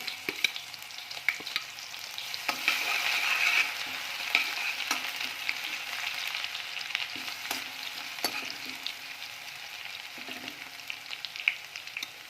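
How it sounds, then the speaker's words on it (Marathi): Mustard seeds, cumin and crushed garlic sizzle and crackle steadily in hot oil in a pan, with occasional stirring clinks, close and continuous, no talking. "मोहरी टाकणार आहोत जिरं आणि ह्या वीस ते पंचवीस लसूणच्या पाकड्या मी ठेचून घेतलेल्या आहे त्या टाकणार आहे"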